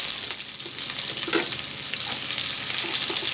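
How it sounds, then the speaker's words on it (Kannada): Onions frying in hot oil with sputtering cumin and mustard seeds for masala chitranna, a steady close crackling sizzle that carries on without a break and with no talk. "ಈಗ ಅದನ್ನು ಚೆನ್ನಾಗಿ ಒಂದು 2 ನಿಮಿಷ ಈ ಥರ ಆಯಿಲಲ್ಲಿ ಫ್ರೈ ಮಾಡ್ಕೊಳ್ಳೋಣ ನಾವು"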